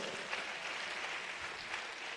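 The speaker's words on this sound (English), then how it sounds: "Please give all of them a warm round of applause." A conference audience at the 2024 HLF International CSR Conference gives a steady, fairly faint round of applause that holds at an even level throughout.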